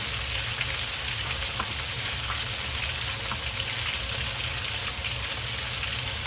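An extra-large whole squirrel fish deep-frying in several cups of hot oil gives a loud, dense, unbroken sizzle with fine crackling spatter throughout, no voices over it.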